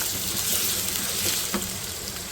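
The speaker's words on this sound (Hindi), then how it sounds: "आलू को फ्राई करना है, इतना फ्राई करना है कि इसके ऊपर ना एक अच्छा सा कलर आ जाए" Cubed potatoes fry with cumin in a pan, giving a steady, close sizzle that holds throughout, with a faint clink or stir near the end.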